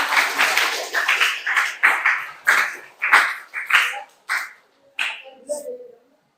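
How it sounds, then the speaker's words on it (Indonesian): A classroom group claps in quick rhythmic bursts, loud and close, with the pattern thinning into a few scattered final claps before stopping. "Tepuk tangan untuk kita semuanya."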